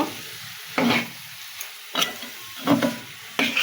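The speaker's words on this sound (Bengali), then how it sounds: "আমি নাড়াচাড়া দিয়ে ঢেকে দেবো" Jackfruit and shrimp being stirred in a frying pan: four scraping stir strokes at a steady rhythm over a soft, constant sizzle, close and fairly quiet.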